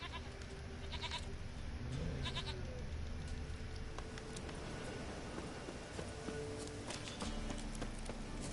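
A goat in The Witcher 3 video game bleats faintly amid soft hoof clip-clops and quiet game ambience, with no talking.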